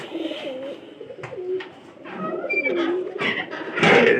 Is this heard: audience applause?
no